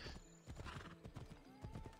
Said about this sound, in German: Mein Pferdchen hat ja hier auch die Flügel.